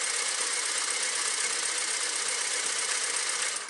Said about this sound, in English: you push down, and it'll wind as slow or as fast as you want to go.